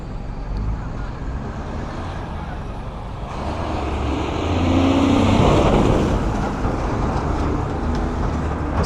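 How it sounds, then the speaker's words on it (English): Steady city street traffic near Canal Street in New York City, a continuous rumble of passing cars and trucks that swells louder midway, with a train-like roar blending in. "So I guess we'll sit here and watch some traffic."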